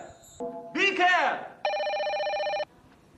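A telephone rings indoors in a Turkmen film, with a steady electronic trill over about a second near the end, preceded by other tonal sounds and voices nearby.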